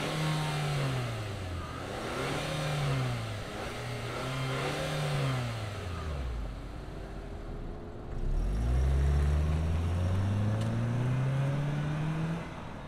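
A 2025 Nissan Kicks SR SUV accelerates, its engine rising and falling in pitch through repeated revving sweeps as it pulls away. It is steady and moderately loud, with no talking.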